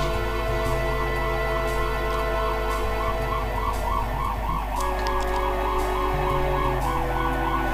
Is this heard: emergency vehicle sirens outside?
yes